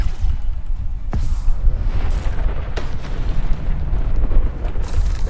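An Incendio fire spell cast in the Hogwarts Legacy video game produces loud, close booming bursts of flame with sharp impacts at intervals over a churning roar.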